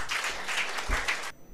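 Audience applause welcoming a speaker at a Tamil talk event, a steady burst of many hands clapping that cuts off abruptly after about a second and a half.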